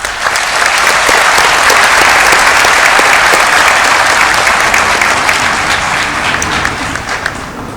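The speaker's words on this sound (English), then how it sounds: "May we give a round of applause to all the graduates today." Sustained loud applause for graduates at a Faculty of Health Sciences graduation ceremony, a dense steady roar of many hands clapping that holds for several seconds before easing slightly.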